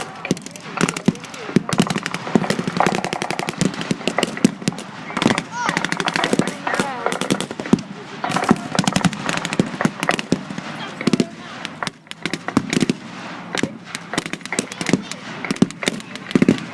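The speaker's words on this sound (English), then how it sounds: "the Bren gun carrier does its work, firing and firing again into those German infantry lines" A Bren gun carrier fires repeatedly at German infantry in a wartime battle, with dense, rapid machine-gun bursts and sharp gunshots running nonstop and loud, mixed with crackling reports like firecrackers throughout.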